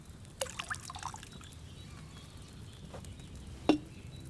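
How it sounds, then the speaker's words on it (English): Wine pours into a cauldron in Kingdom Come Deliverance 2, a soft trickling splash beneath quiet ambient noise, with a few faint knocks and a sharper clunk near the end. "So, what did you pour in there? Wine, of course."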